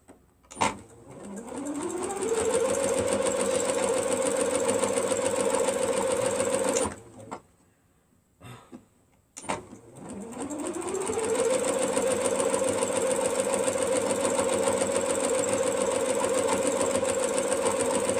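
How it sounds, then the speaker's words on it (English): A sewing machine stitches quilt pieces together in two long, steady runs, each spinning up to a loud, even hum, with a brief stop and a few clicks between them. "we're going to sew it down"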